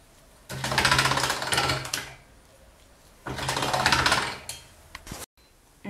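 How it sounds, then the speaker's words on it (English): A pasta machine rolls and mixes polymer clay tinted with alcohol ink, giving two loud, close bursts of whirring, grinding mechanical rolling separated by a short pause, with no talking. "you can take it to your pasta machine and use your pasta machine to mix it in"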